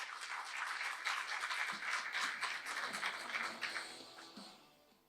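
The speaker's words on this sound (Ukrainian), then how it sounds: "Під ваші оплески, будь ласка." Audience at a business forum on a USAID economic programme gives scattered, moderately quiet applause for a speaker coming on stage, lasting a few seconds before tapering off.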